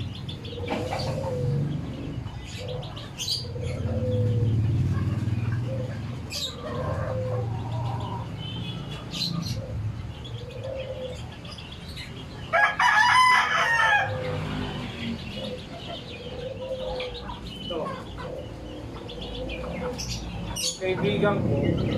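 A rooster crows loudly and close by, one clear crow standing out from a farmyard backdrop of clucking chickens and other birds. Someone talks through most of it.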